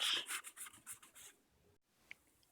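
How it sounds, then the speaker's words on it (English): Dried silicone on a DIY Batman cowl mask being smoothed with 600 grit sandpaper, a series of quick, close rhythmic rubbing strokes that fade out, followed by a near-silent pause and one small tap. "take your 600 grit sandpaper, just lightly smooth it out"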